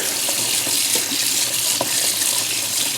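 Cold tap water runs steadily into a sink while mushrooms are washed under it, a dense close hiss with faint splashing and small knocks and no talking.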